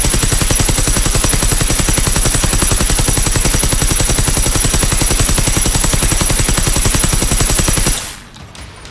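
Experimental KVG machine gun in Generation Zero firing one long continuous burst of rapid, evenly spaced shots, loud and close, stopping abruptly near the end with only a faint tail of game ambience after.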